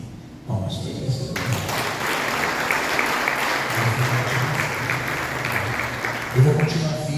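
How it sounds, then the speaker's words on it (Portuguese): Broadband applause rises from a congregation at a church communion service and keeps going steadily for several seconds, with a few louder bursts near the end. "Palmas para Deus."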